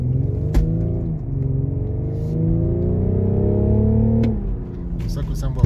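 BMW M550d xDrive diesel engine accelerating in sport mode with an automatic gearbox: a steady rising engine drone climbing through the revs, a brief dip near one second, then pulling strongly again before easing off, close and loud inside the cabin.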